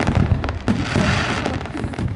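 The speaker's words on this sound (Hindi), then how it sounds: "पटाखे अपने शानदार रंगों और आकृतियों से मन को लुभाते हैं।" Festive Diwali fireworks and firecrackers explode in continuous, loud crackling bursts with scattered sharp pops overlapping closely, no voices present.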